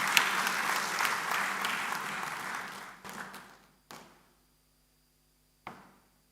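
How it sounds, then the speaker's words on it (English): An audience at a Pan-Atlantic University ceremony applauds in a full, hall-filling wave of clapping that fades out around three seconds, followed by a few isolated knocks or thumps in near silence. "Please, let's welcome her with a round of applause."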